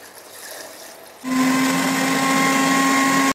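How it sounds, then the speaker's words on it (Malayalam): A kitchen blender grinds cut gooseberries (amla) with water. It starts abruptly after a second of quiet room sound, then holds a loud, steady, high motor whine until it cuts off at the end. "അപ്പോൾ നമുക്ക് നെല്ലിക്ക ആദ്യം അരച്ചെടുക്കാം."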